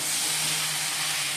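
Hot water poured into a soybean and potato curry gives a steady, loud hiss that fills the whole moment without pause.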